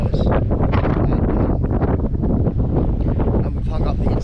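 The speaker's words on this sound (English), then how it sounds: "We thought that the tent was collapsed, so windy." Strong gusting wind at a campsite on Senja, Norway, buffeting the microphone with a loud, continuous roar and flutter throughout.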